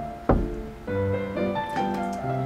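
A single dull knock on an apartment door in the video game providence sounds near the start, followed by sustained tonal game music and no voices.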